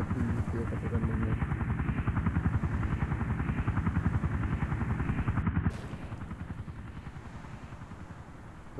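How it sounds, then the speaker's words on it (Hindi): A helicopter in a video game takes off with a loud, steady rotor chop that throbs rhythmically throughout and drops slightly in level near the end. "हमारा ये जो हेलीकॉप्टर है वो दोबारा उड़ान भर चुका है"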